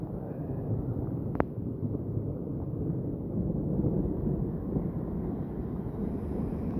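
Low rumbling thunder rolls on and off during a thunderstorm with rain outdoors, heard over steady wind buffeting on the microphone, with one brief sharp click early on.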